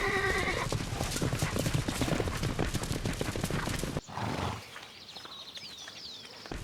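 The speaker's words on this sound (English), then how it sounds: "A galloping horse travels at about 45 kilometers per hour" Hooves of a galloping horse pound in a fast, steady rhythm, close and loud, before cutting to quieter outdoor sound with a faint whinny.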